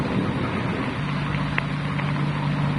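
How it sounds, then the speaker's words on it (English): Radio drama effect of a car approaching up a road, a low engine hum rising out of a bed of wind and rain noise. The sound is distant and steady, with no voices. "The car's coming up the road toward us, sounds like."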